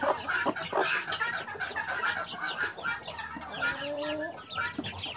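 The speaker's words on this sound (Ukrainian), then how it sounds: "Ось дивіться, які вже курчатка." Broody hens and their young chicks cluck softly in a coop in early July, with scattered low clucks and a few faint peeps close by.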